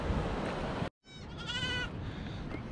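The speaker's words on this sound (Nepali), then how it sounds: "ए यहाँ त बाख्राले पाठा पाएर रहेछ नि 3टा पाएछ नि" A goat bleats close by next to three newborn kids on a trail toward Kapuche Lake in Nepal, a single wavering cry heard after a sudden cut, over constant outdoor background noise.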